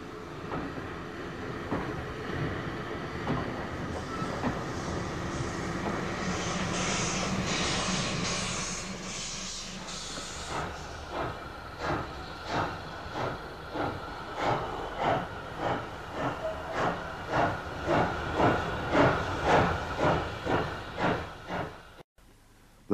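A Johnson tank steam locomotive at a Midland Railway junction first hisses steam steadily, then starts chuffing in regular exhaust beats that grow louder and quicker as it moves off close by.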